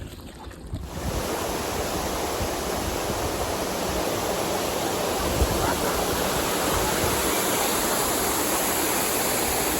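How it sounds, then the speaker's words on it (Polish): A waterfall at Lake Belton roars as a constant, loud wash of broadband rushing water that fills the whole scene without a break, with no talking over it. "Mamy piękny wodospad nad jeziorem Belton."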